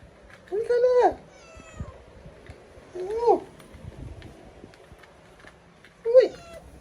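A black-and-white cat outdoors gives three separate drawn-out meows spaced a few seconds apart, close and clear, with quiet gaps between them.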